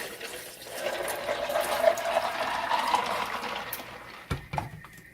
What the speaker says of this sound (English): Now I'm just going to pour it into this jug.